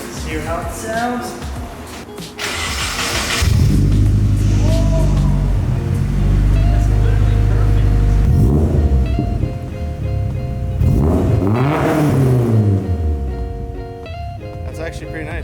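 A Nissan 240SX with an APEXi catback exhaust starts and rumbles up close, a deep idle broken by several rising revs that fall back, while people talk over the engine.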